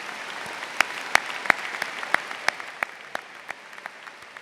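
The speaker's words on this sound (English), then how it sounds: "Students, can we give a huge round of applause, please, to Ms. Cochran, Ms. Cogliano, and Dr. Rosa." Applause from an audience at a high school graduation ceremony, steady clapping from a large crowd with a few sharp, louder claps standing out near the microphone, gradually thinning toward the end.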